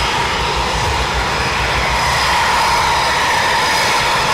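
A Eurofighter Typhoon jet taxiing at night at RAF Coningsby makes a loud, steady roar with a whining edge that holds throughout and stays close.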